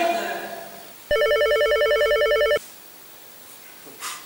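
A telephone rings once in a French short film, a loud electronic trilling burst lasting about a second and a half, preceded and followed by quiet room sound with a faint voice before it.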